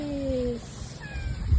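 A cat meows a few times at close range while being offered a freshly caught fish on a fishing outing, two short rising-falling cries with outdoor rumble and faint voices around them.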